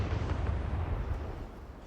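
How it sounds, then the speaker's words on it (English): A pipe bomb going off in the Project Zomboid video game, heard as a deep, rumbling blast that is fairly distant and slowly fades away with no talking. "Can't even see the explosion."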